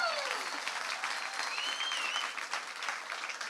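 Dense audience applause fills a Rock and Roll Hall of Fame ceremony hall, a steady wash of many hands clapping, with loud cheers and whistles rising over it.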